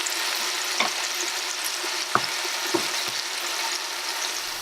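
Onions frying in oil for vegetable bhaji, giving a steady close sizzle throughout with a few soft clinks and stirring knocks from the pan.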